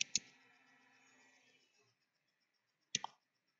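Computer mouse clicks while installing Microsoft SQL Server: two quick clicks at the start, then a fading hum and silence before another pair of crisp clicks near the end.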